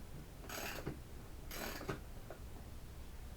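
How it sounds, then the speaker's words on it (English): The handle of a wooden shop-built router lift is cranked, giving two short bursts of ratcheting, clicking mechanism noise separated by a pause, fairly close and otherwise quiet. "But you crank up the handle like that."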